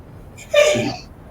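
A single short sneeze, a quick sharp burst of breath and voice rising then fading, close by in a quiet room.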